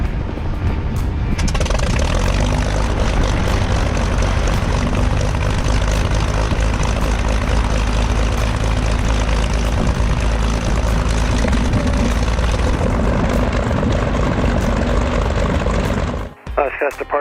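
A small propeller airplane's engine runs at steady high power for most of the clip, a loud continuous drone that cuts off abruptly near the end.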